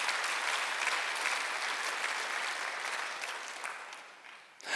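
Sustained applause from a church congregation during a Sunday worship service, a dense wash of many hands clapping steadily for several seconds, easing slightly before a final swell.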